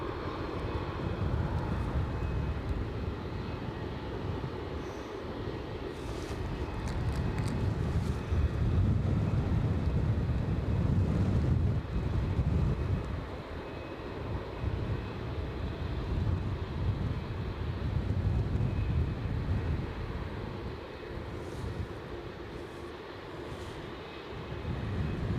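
An SAS Embraer jet approaching Aberdeen airport gives a distant, steady engine rumble that swells and fades slightly amid wind buffeting the microphone, with no voices heard.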